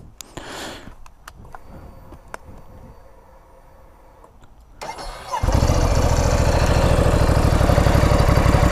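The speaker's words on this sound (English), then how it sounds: "we're going to crank it up and let you hear it." A 2016 Ducati Scrambler Sixty2 motorcycle cranks with a brief starter whir after a few quiet seconds, then fires and settles into a loud, steady, close-up idle with an even, pulsing throb.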